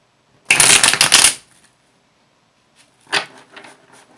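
Tarot cards are shuffled close by in two separate bursts, a loud riffling flurry of about a second followed, after a pause, by a shorter, softer shuffle.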